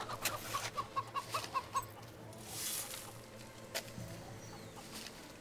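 Chickens clucking in Fable 3, a run of quick, soft clucks in a steady rhythm near the start, followed by faint ambient game sounds.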